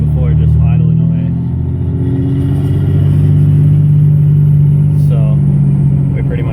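A vehicle engine idles with a low, steady rumble and rattle throughout, close and fairly loud, with a faint high whine above it.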